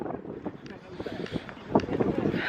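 Wind gusting outdoors at Dover Castle in the UK, buffeting the microphone in rough, uneven rumbles, with people talking close by over it.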